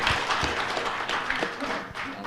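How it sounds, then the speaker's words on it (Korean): A crowd applauds at a political forum event, with steady clapping filling the space while a voice talks faintly underneath. "여러분 큰 박수 부탁드립니다"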